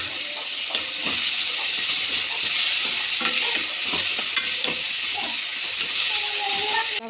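Tomatoes sautéing in a pan for roadside-style pea kurma, giving a loud, steady sizzle with frequent stirring and scraping strokes that keep up through the whole stretch.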